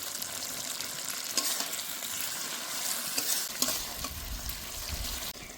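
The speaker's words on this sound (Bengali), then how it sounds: "আলুগুলো দিয়েও বেশ কিছুক্ষণ কষবো" Potatoes sautéing in a hot pan, a steady broadband sizzle with intermittent scraping stirs from a spatula, close and continuous throughout with no voices.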